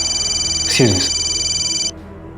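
A telephone rings in a scene from an Indian crime drama, giving a steady electronic tone for about two seconds before it cuts off. A brief voice overlaps it partway through.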